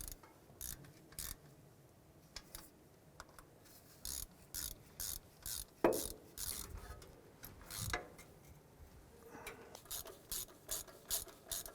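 A ratchet snugs down exhaust manifold bolts on a 2004-2009 Dodge Durango, short bursts of rapid close clicking repeating in quick sets, with a sharper metallic knock midway and no talk.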